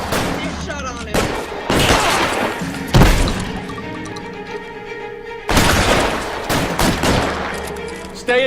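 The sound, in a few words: gunfire in a bank shootout, video game L.A. Noire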